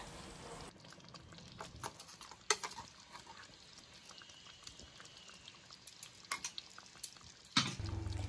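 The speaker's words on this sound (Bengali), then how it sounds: "আবারও একবার একটু ডাবের জল দিয়ে ভালো করে নেড়ে চেড়ে নিয়ে" Prawn curry with coconut water being stirred in a pan. The sound is quiet and close, with soft liquid movement broken by scattered sharp clinks and scrapes of the utensil.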